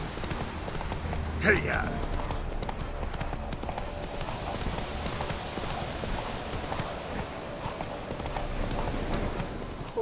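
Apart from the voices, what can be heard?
horse galloping hooves in video game The Witcher 3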